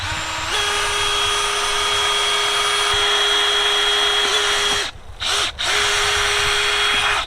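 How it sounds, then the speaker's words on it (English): A power drill with a worn, wrecked bit boring into a fiberglass post, a loud steady whine held for several seconds, briefly cut off twice near the end before resuming. "He's gonna drill that."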